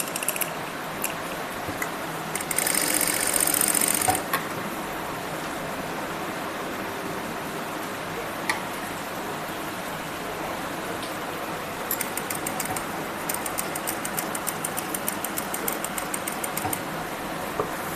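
A sewing machine runs tacking stitches to attach a pocket to a ladies' kurti, a steady mechanical whir with a brief louder burst early on and later rapid ticking runs.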